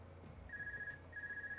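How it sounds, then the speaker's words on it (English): A phone rings in the video game Trails of Cold Steel II, two clear electronic trilling rings separated by a short gap, steady and close, heard alone without talk. "How many times will it ring if I don't say anything?"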